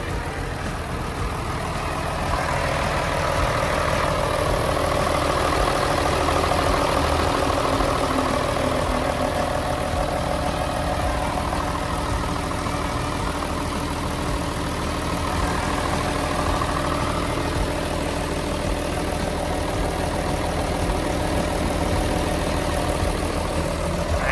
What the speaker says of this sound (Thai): เสียงเครื่องการทำงานของเครื่องยนต์ ของเจ้าตัวนี้เนี่ย ก็ถือว่าทำงานได้แน่นและก็นิ่มดีมากๆ